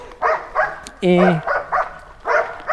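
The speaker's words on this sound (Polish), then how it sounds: "Jeszcze słychać tego szczekającego psa" A dog barks and whines in short bursts nearby, mixed in with a person talking over it.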